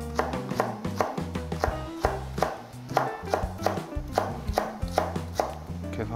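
A knife chops rapidly and rhythmically on a cutting board, sharp close taps in quick bursts, chopping green onion.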